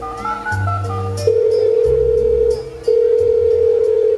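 A telephone call to a son rings out on the line as steady electronic ringback tones, loud and sustained in long stretches with a brief gap between, over a low humming background.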